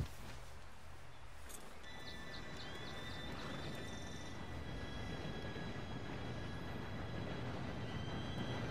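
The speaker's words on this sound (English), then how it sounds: "Train should be here any minute now." An approaching train in the Western game Red Dead Redemption 2, a steady low rumble with a distant whistle-like tone and faint clanking over a constant ambient bed, no speech.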